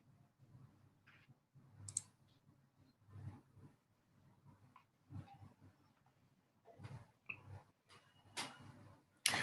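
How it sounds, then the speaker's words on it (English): A computer keyboard is typed on in a quiet room, with faint, irregular clicks that arrive in short bursts separated by pauses, plus a few sharper taps near the end. "I think Himanshu will be typing out his response"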